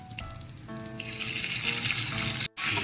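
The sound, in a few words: sautéing ginger and asuhos fish in a pan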